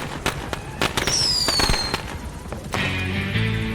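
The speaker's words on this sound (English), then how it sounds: "Those sound like fireworks. Not pistols." Gunfire in Metal Gear Solid V crackles like fireworks, a rapid run of sharp pops and bangs with a rising whistle, followed by a sustained tonal swell.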